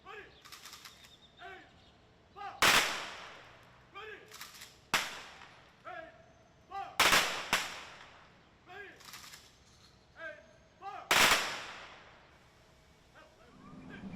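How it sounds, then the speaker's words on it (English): Rifle volleys of a 21-gun salute at an outdoor police memorial ceremony ring out as sharp, loud cracks, with some shots close together and others spaced a few seconds apart, each echoing away, with a dog barking and voices in between. "They all lined up for the 21-gun salute."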